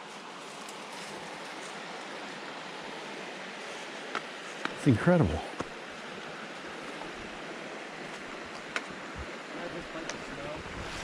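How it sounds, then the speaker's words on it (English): A river rushing through autumn woods in a wilderness area, a steady broadband wash of flowing water with wind, while a voice briefly speaks close by midway. "Look at the river coming through here and the leaves falling."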